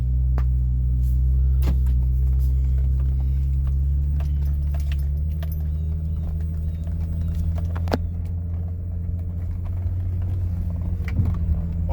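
A 2007 Husqvarna YTH2454 riding lawn mower with a slipping transmission drives steadily, its engine giving a continuous low droning rumble close by, with a few faint clicks and rattles and no talking.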